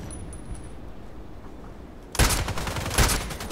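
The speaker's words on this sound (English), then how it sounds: "Light shooting." Gunfire from the online shooter game Contract Wars erupts as a sudden loud burst of rapid shots after a quiet stretch, with a second flurry close behind.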